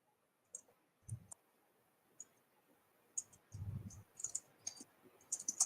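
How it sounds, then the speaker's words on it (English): Sparse, faint clicks of computer keyboard typing come in short irregular bursts, quiet and close against a near-silent background, with no voices. "I didn't know you could hear me typing"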